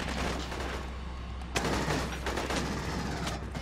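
A machine gun fires in the Aliens: Colonial Marines game, a dense rattling burst over a heavy rumbling backdrop, with a sharper loud volley erupting midway and continuing.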